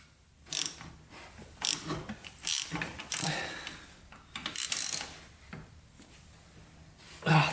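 A ratchet loosens tight bolts in a crisscross pattern on a big-bore Yamaha YFZ450 quad engine, giving quiet, close, uneven bursts of clicking and metallic clatter with short pauses between them.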